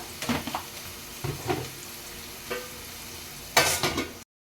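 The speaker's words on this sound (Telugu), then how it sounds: "ఇవి వేసుకుని మంచిగా ఇవి ఎర్రగా ఫ్రై అయ్యే వరకు ఫ్రై చేసుకోవాలండి" Ingredients for mutton pulao fry in a pan while a spoon stirs them, producing a few scraping strokes over a soft sizzle, ending in one louder clatter before cutting out.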